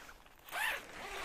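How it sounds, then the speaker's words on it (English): A zipper on a Rightline truck bed tent is pulled in one quick, rasping zip, close and fairly faint against quiet outdoor background. "You got two zippers."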